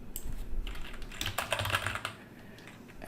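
Quick, close taps from a computer keyboard form a short burst of typing that fades off toward the end, with no voices.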